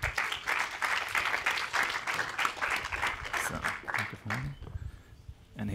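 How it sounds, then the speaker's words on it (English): Audience applause at a climate awards ceremony as the Miami team comes on stage, steady dense clapping for about four seconds that thins out, with a voice and stage noise near the end. "An applause for Miami, please."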